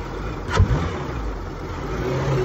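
Air conditioning compressor pump of a VW Passat R36 running after a refrigerant refill, a steady low engine-bay hum with a brief louder thump near the start, close by and without talk.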